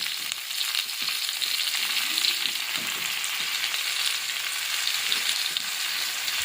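Cumin, coriander, ginger paste, onion and chili powder sautéing in a pan over already-fried potatoes for a Bengali fish curry, a steady close sizzle with faint scraping stirs throughout, no voices.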